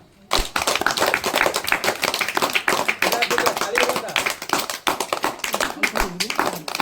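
An audience claps in a brisk, fairly even rhythm during a magician's act on an Indian talent show stage, the loud clapping continuing almost without break after a short quiet start.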